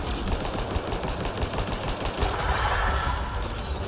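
Gunfire in the Mass Effect Andromeda video game rattles on as a steady, loud, dense barrage of shots and explosions over the whole stretch, with no talk.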